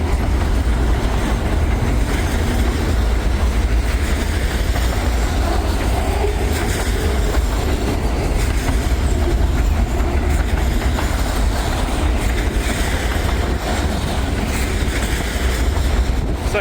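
A freight train with railroad cars rolls past close by outdoors, a loud, continuous rumble of wheels with rhythmic clickety-clack and faint squeals throughout.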